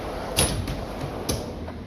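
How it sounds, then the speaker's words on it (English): Roller ball bearing drawers on a MATCO tool box slide open with a rough, rattling scrape and a couple of sharper clacks, close and steady. "When I first got this box, the drawers did not like to open, as you can hear."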